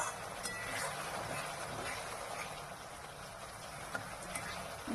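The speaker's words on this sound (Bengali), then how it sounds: "গরম জল একটু ঢেলে দিয়ে ফুটিয়ে নিচ্ছি সুন্দরভাবে" Shrimp curry boiling in a pot after hot water is added makes a soft, low, continuous bubbling hiss with faint ticking pops.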